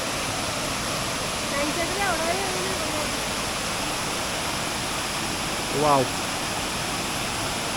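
A rainy-season waterfall at Bonacaud roars as a steady broadband rush throughout, with a brief exclamation and faint whistle-like chirps over it.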